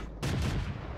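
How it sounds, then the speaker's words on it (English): A single heavy cannon blast from an Easy 8 tank in a World War II tank battle game bursts out loudly and rumbles away over about a second. "I'm getting shot right now by Easy 8"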